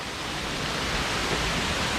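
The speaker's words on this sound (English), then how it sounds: "I couldn't hear over the waterfall" A steady, dense roar of rushing water from a nearby waterfall in Bali, a constant broadband wash with no pauses and no voices.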